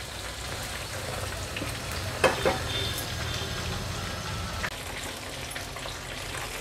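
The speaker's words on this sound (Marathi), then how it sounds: "आता आपण ह्याला मीडियम फ्लेमवर छान फ्राय करून घेणार आहोत।" Bombil (Bombay duck) bhaji coated in rice flour and besan fry on a medium flame, giving a steady close sizzle with a few louder pops and spits standing out over the continuous hiss.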